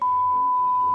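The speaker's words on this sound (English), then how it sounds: "Well, now I have to insert a beep into that." A censor beep: a single steady pure electronic tone held for about a second, clean and constant at even loudness, with nothing else heard.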